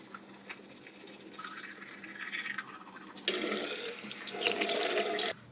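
Warm water runs from a faucet into a bathroom sink during face washing, a soft hiss at first that turns into a louder, fuller splashing stream before it cuts off abruptly.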